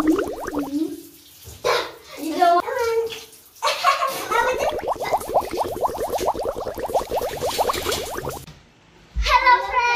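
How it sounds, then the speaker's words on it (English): Children are being bathed in a bathtub while water splashes and runs steadily under their constant chatter and singing, with a brief quieter pause near the end. "We're ready to shower."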